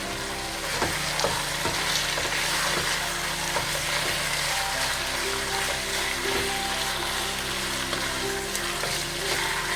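Meat frying in a pan with bay leaves, allspice and salt, a dense, constant sizzle with a few soft scraping strokes of stirring near the start, close and even, with no talking.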